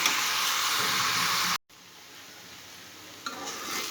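Chalta pickle, a sweet, sour and spicy elephant apple pickle, bubbles and sizzles in spiced oil as it is stirred in a pan. A loud, even hiss suddenly cuts off, then comes back as a quieter, steady sizzle.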